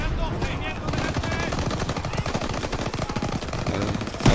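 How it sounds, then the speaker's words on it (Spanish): Rapid, rattling gunfire from an M1 Garand rifle in the Call of Duty WWII campaign, a dense run of shots close and loud across the whole stretch within a busy battle mix. "No dispara muy rápido este M, la M1 Gram"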